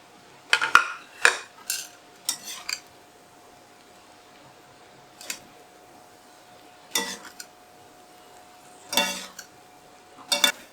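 A spatula stirs chicken noodles with egg in a pan, giving sporadic metallic scrapes and clatters spaced by quiet pauses, close and fairly crisp, with no voices.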